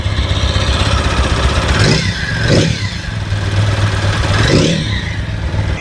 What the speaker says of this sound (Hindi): और मैं एक बार आपको इंजन का भी साउंड सुना देता हूँ।